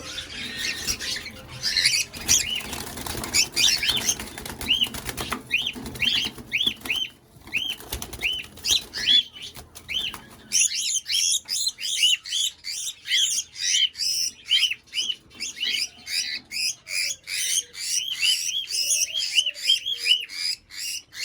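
A female cockatiel being handled, with bursts of flapping wings early on followed by rapid, repeated sharp chirps and squawks, close and fairly loud.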